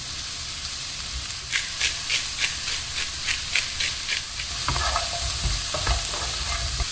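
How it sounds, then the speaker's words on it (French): Carrots, leek and celery sauté in a pan over raised gas heat, with a continuous loud sizzle and a rhythmic run of spoon scrapes and stirring strokes across the pan, steadily repeated and close. "les carottes et le poireau et le céleri. Je vais remonter un petit peu le gaz et puis les faire revenir pendant 1 à 2 minutes supplémentaires."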